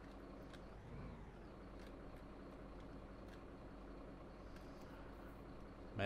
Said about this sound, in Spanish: Suena como un autobús este camión